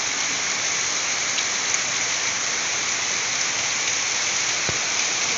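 Steady rain falls as a dense, even hiss with no letup, close and fairly loud, with no voices.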